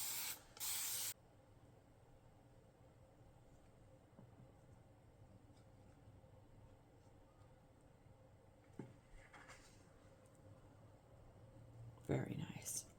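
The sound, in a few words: spray painting a cabinet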